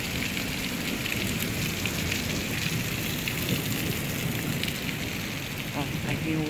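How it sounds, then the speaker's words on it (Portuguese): Heavy rain pours down steadily during a storm in Germany, a dense unbroken hiss with thunder rumbling low beneath it throughout. "Aí tem outro trovão. Mal acabou um, já tem outro."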